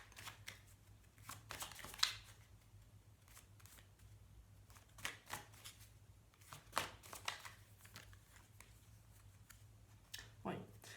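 Tarot cards being shuffled and drawn for a weekly reading, heard as soft papery riffles and slaps in scattered bursts, quiet and close, with a low steady hum underneath.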